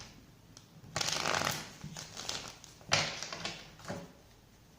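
Cards being shuffled in two quick riffling bursts, each a crisp flurry of papery flicks, with quieter handling noises between them, close to the listener.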